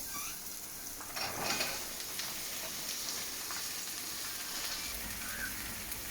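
Chopped ivy gourd goes into a pan of light-brown shallots frying in oil, and a soft, even sizzle follows with a brief louder rustle as the pieces land. It stays faint and steady throughout, with no talking.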